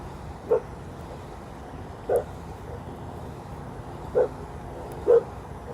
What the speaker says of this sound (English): Neighbor's dog likes barking.